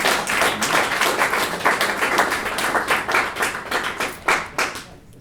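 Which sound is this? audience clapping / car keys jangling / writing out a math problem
audience clapping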